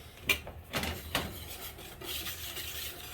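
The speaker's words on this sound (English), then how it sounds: "And then what I do normally is I'll whisk this together." A big whisk stirring flour and other dry cookie ingredients in a bowl, a few quiet scraping and rubbing strokes followed by a soft ongoing rustle.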